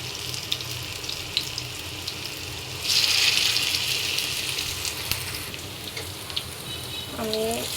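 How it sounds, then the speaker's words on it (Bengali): Gondho leaf fritters (bora) frying in a pan give a steady broadband sizzle that grows louder partway through and holds. A brief voice is heard near the end. "আমি এগুলো উল্টিয়ে দিচ্ছি, এগুলো উল্টিয়ে পাল্টিয়ে ভেজে নিতে হবে।"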